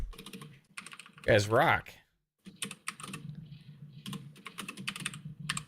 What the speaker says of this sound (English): I know I'm typing like Caitlin right now